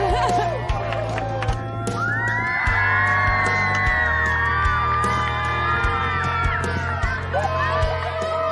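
A crowd in a small Queensland town cheers and whoops loudly, welcoming a family home, with high excited shouts rising over a steady hubbub of voices, sustained throughout.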